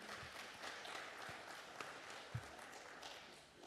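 Applause from the audience at a formal inauguration ceremony for an Indonesian business association's capital market and IPO body, a steady faint wash of clapping with a few louder claps, fairly distant.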